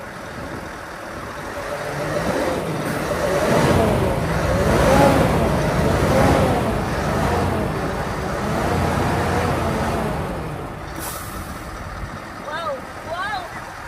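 A chrome Scania truck engine revs from outside, a heavy rumble that swells and falls through several throttle pushes over a steady idle, loud and continuous, with voices faintly mixed in.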